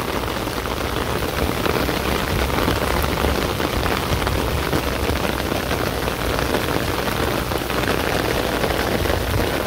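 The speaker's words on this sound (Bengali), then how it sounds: "বৃষ্টিটা কিন্তু অনেক দূরে নামছে, জানি না কতটা বোঝা যায়" Rain pouring down outdoors at a rural home during a storm, a steady, dense, broadband hiss of drops on surfaces that stays unbroken and even throughout, with no voices.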